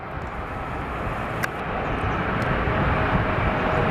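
An Alaska Airlines jet in its Honoring Those Who Serve livery passes over Seattle on the Fourth of July, a broad engine roar that builds steadily over a few seconds, with no talking.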